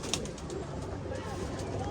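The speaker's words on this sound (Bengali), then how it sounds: "এখন এইখানে কিছু কবুতর আছে" Pigeons in a loft, soft cooing and low bird calls filling a short stretch, under a constant background noise.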